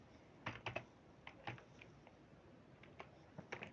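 Light clicks of a computer keyboard as someone types Python code, coming in short clustered bursts with pauses between them, heard close up in a quiet room with no speech.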